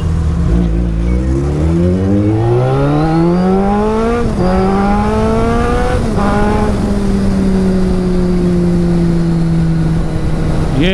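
A Suzuki Hayabusa motorcycle revs hard on a ride, its engine note climbing through first, second and third gear with clear dips at each shift, loud and close throughout.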